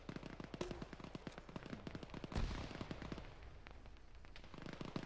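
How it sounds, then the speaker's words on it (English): Gunfire in the military game Arma, rapid bursts of automatic shots with one heavier blast midway, fairly close but quiet overall, then tapering to scattered shots. "We're getting shot."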